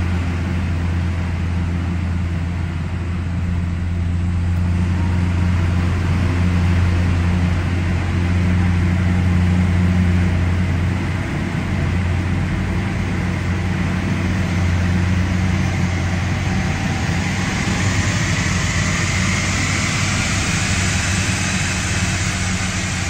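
A VW Passat B8 with the 2.0 TDI diesel engine and DSG gearbox runs steadily on a chassis dyno at part load, giving a continuous loud drone with a low hum and a broad roar that rises in pitch toward the end.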